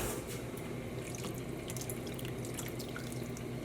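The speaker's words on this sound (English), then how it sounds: "I will rinse out this cup" Water running from a tap as a dye cup is rinsed out, a steady soft splashing stream with light spatter, fairly faint and close, with no voices.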